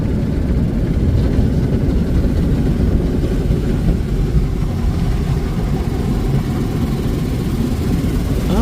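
Ryko Softgloss friction car wash running its soft touch cycle, a steady loud low rumble of machinery and spinning brushes that holds constant throughout with no talk.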